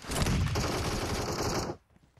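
A rapid, dense burst of video game gunfire, loud and close, runs for under two seconds before cutting off abruptly into quiet.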